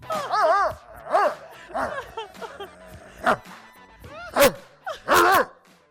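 A dog yips and barks in short bursts, several separate barks with pauses between, close by, with some voices mixed in.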